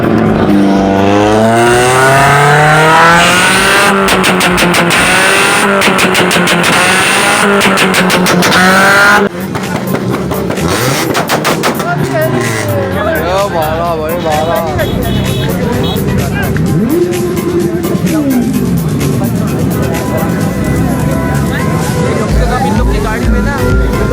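Modified car with heavily altered engine revving hard through a loud exhaust at a Karachi racing track, rising and falling engine sweeps with sharp backfire pops, loud and close amid crowd babble and talk.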